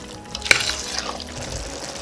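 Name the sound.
coconut milk poured into Trinidad chicken pelau pot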